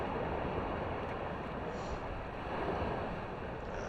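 Surf washes steadily onto a beach at a snorkeling spot on an overcast day, a broad continuous roar of waves with wind noise buffeting the microphone throughout, and no voices.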